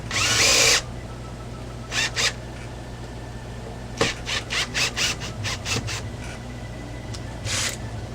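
Power drill driving screws into a guitar's tremolo assembly: a loud opening whir, then short bursts of drilling and a rapid series of grinding pulses, each separated by quiet gaps.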